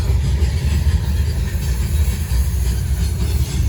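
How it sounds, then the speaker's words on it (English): A long Norfolk Southern freight train made up mostly of 2-bay hopper cars rumbles past at night in Gaffney, South Carolina, a steady, loud low roar of wheels on rail that holds without a break. "This train is mostly 2-bay hoppers."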